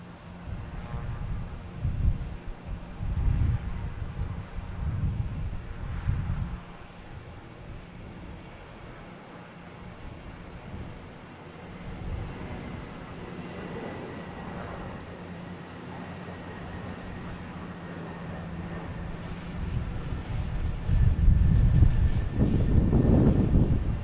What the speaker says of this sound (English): Embraer E175.